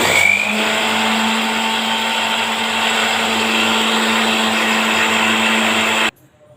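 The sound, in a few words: mixer grinder grinding soaked rice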